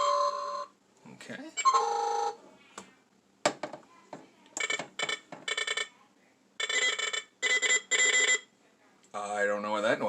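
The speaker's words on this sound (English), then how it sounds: "Oh, red alert." Star Trek Enterprise D bridge playset toy from Playmates sounding electronic red alert tones: repeated bright bursts of beeping and chiming alarm sound with short gaps, ending in a brief spoken word.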